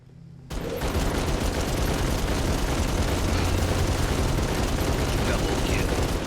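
Heavy automatic fire from a machine gun turret in Halo Firefight or the Mulcher in Gears of War Horde mode erupts after a short lull and then roars steadily and loudly for several seconds, mixed with booming explosions.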